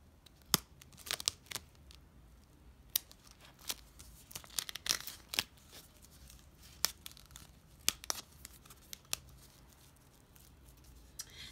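Tape torn and wrapped around a toilet paper roll to make a bracelet loom, heard as scattered sharp crinkles, snaps and tearing bursts, close and fairly quiet, with no talking.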